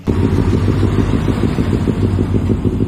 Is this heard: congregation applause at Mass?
no